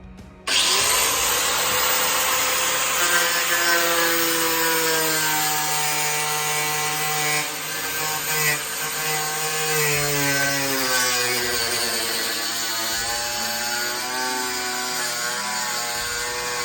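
Small angle grinder cutting a concrete slab, a loud, sustained high-pitched whine with a gritty scraping edge, running continuously and close after a sudden start, pitch dipping slightly under load.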